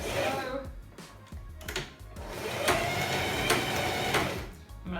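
A sewing machine stitching fabric for a cosplay costume, heard as a close, busy mechanical whir with bursts of motor sound over a few seconds, mixed with handling noise.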